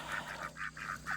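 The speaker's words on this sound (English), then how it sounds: "ducks have water" Farm ducks on an Ontario farm give a run of about seven nasal quacking calls in quick, uneven succession, moderately close, with no talking.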